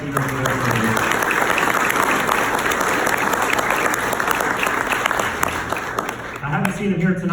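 Audience at a county GOP meeting applauding the officers, a dense, steady roar of clapping that tapers off near the end as a voice starts talking.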